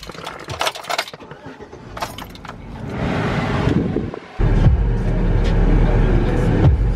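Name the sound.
old work truck driving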